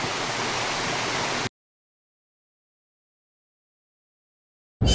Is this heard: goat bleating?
no